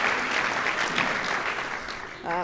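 Audience applause at a university honorary degree ceremony, a steady dense wash of clapping from a large crowd that fills the whole moment and swells slightly again at the end.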